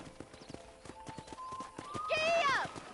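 Horse hooves in the Western video game Red Dead Redemption, a steady walking clip-clop ending in a loud whinny, with someone talking over the hoofbeats.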